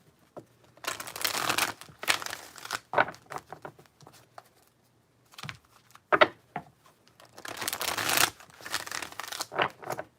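A deck of tarot cards is shuffled up close in three main bursts of papery riffling and patter, separated by brief pauses, with no talking.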